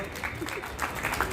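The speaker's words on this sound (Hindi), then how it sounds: "इस्तकबाल कर रहे हैं DIG हाजी साहब श्रीनिवास साहब का, तालियों की गूंज में" Applause at a welcome ceremony where a DIG is honoured with a shawl by an NGO president. The clapping is steady and crowd-like, moderately loud, with faint voices underneath.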